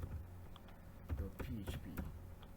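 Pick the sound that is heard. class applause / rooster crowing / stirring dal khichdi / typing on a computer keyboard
typing on a computer keyboard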